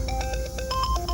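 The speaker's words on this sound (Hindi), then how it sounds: "तेरा फोन बज रहा है।" A phone ringtone plays as a repeating electronic melody of short pulsing tones, clear and fairly near, with no speech over it.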